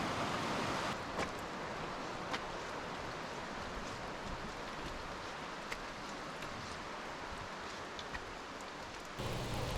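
Steady rain falls on the trail near Merrimack Falls on the Olympic Peninsula, a constant close hiss with occasional louder drops and no voices.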